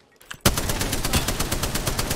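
In Apex Legends, a burst of automatic gunfire erupts after a brief quiet moment and rattles on in rapid, evenly spaced shots, loud and close.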